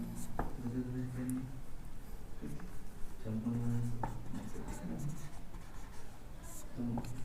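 Pen scratching out notes during a Madhya Pradesh geography lesson, in repeated short strokes heard over continuous teacher speech and room noise.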